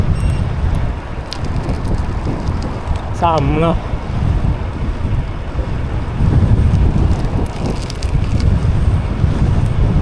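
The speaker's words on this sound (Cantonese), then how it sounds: "今日太大風啦" Strong wind buffeting the microphone while cycling to work in Dublin, a continuous rough roar throughout, with a person talking briefly and a short whistling squeal partway through.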